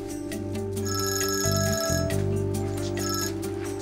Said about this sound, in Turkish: Çalıyor.